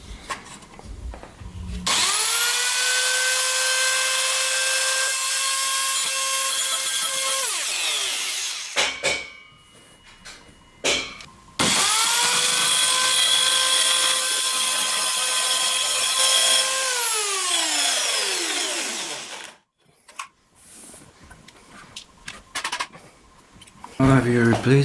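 Worx Versacut WX420 compact circular saw cutting thin, poorly supported material: two loud, sustained whining cuts, each starting with a motor spin-up and ending in a falling wind-down, separated by brief clatter and handling noise.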